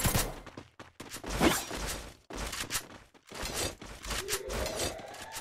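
Gunfire during a round of a video game battle, with rapid bursts of shots and sharp, crackling impacts that come in clusters separated by brief gaps, loud and dense throughout.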